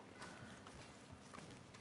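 Horse hooves clip-clop steadily at a walking pace in Red Dead Redemption 2, sitting low and continuous under a dense game soundscape, with no talk over them.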